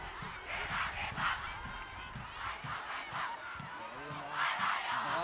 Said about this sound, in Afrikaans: Skare wat brul daar.